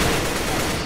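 Gunfire in a Roblox shooting game, a dense burst of rapid shots lasting under a second, loud and close with no talking.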